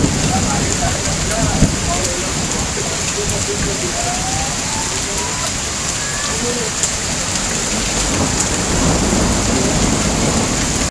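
Unseasonal rain falls over Badnera town, a loud continuous roar of heavy downpour with thunder, and faint tonal sounds drifting under the wash.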